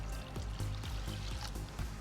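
Soda water poured into a bowl holding batter ingredients for vegetable tempura, a quiet steady trickle with light gurgling and fizz close by for about two seconds.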